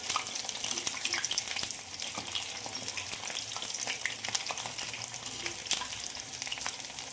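Crispy spinach bhaji frying in hot oil, a dense, continuous bubbling sizzle with scattered crackles, close and even throughout.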